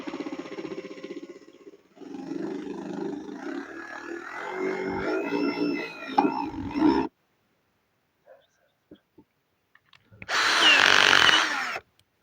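A power drill drives a screw into wood for a Christmas tree stand, running with a loud steady whir for several seconds, pausing with a few faint clicks, then whining again in a brief, higher burst.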